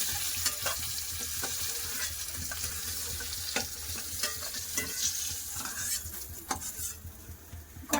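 Pieces of rohu fish fry in oil in a pan, a continuous sizzle broken by frequent scraping and clinking as a utensil turns them, with no voices.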